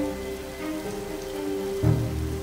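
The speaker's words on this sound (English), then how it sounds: "to mark the occasion, the heavens have well and truly opened" Heavy rain pours outdoors across the gardens at Stowe, a steady wash of patter under a low drone, with a brief thud near the end.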